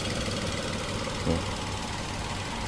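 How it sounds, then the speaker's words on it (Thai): Three-cylinder engine of a Nissan Almera/March idling steadily with a slight vibration, a continuous low, even hum with a faint rhythmic knock, close by and alone. "เครื่องยนต์สามสูบอารมณ์ก็จะประมาณนี้นะฮะสั่นนิดนึง"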